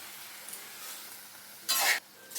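Chopped chukka kura (sorrel leaves) frying in a pan for an Andhra tomato curry: a faint low sizzle, then a brief loud burst of hissing and stirring near the end.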